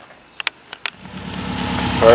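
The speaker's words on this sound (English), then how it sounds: "so she started up. Everything sounds nice, no exhaust leaks or anything. Idle is normal." A Subaru WRX fitted with a Twisted Motion 20g turbo makes a few sharp clicks, then its engine cranks, catches and settles into a steady, rising idle rumble close by.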